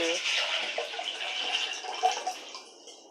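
Water pours steadily into a metal pressure cooker, close and continuous, thinning out near the end.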